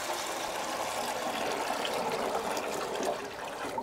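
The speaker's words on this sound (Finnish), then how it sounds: "kaadetaan vettä vaan sinne, hana on kiinni" Water is poured from a bucket into an ultrasonic cleaner in a workshop, giving a continuous close splashing gush that lasts the whole time.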